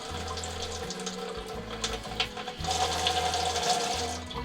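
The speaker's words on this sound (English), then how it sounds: "Running water." Water runs steadily from an outdoor RV water hookup, splashing continuously with a low pump-like hum underneath.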